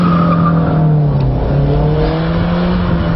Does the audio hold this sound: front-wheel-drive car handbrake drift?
yes